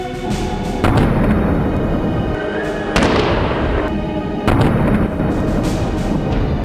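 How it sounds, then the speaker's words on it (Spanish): Loud, sharp gunshot detonations crack out several times at irregular intervals over a constant roaring background, with shots fired from inside an armored vehicle. "Siguen escuchándose detonaciones, pero nadie identifica de dónde provienen."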